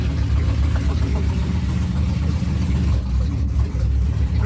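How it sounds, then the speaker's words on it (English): Engine of an 800 hp Chrysler 300 running steadily right after a cold start, a loud, dense low rumble with a fast-idle character holding close by for the whole stretch. "That was a cold start."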